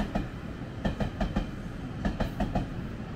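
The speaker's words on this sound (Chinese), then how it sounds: "蚵仔街的对面火车走来走去" A train rolls past near a street, with rhythmic clickety-clack of wheels over rail joints in uneven bursts, moderately loud against a steady low rumble.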